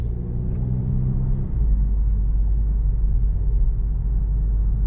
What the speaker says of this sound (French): entend quand même le bruit du moteur